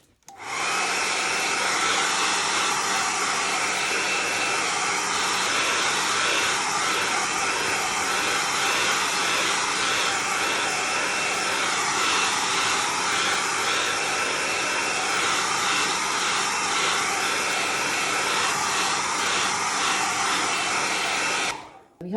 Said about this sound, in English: get a hairdryer and give it a quick whiz.